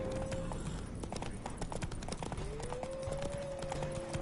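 Horse hooves clip-clop in a steady fast rhythm as the mount Roach gallops in The Witcher 3, with a faint tonal game sound rising underneath throughout.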